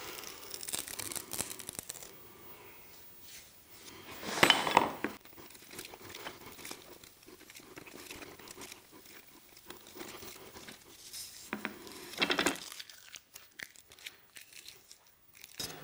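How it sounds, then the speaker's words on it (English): Protective film is peeled off a part for a homemade steampunk guitar amp, soft crinkling and tearing rustles in short bursts with a couple of louder ripping pulls, close and otherwise quiet. "gently peel that off of there"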